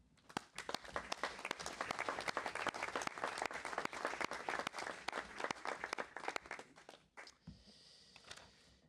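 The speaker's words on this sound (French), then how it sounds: "Nous pouvons applaudir les associations." Audience applause for community associations at a municipal council meeting, a steady burst of many hands clapping that holds for about seven seconds before thinning to a few scattered claps.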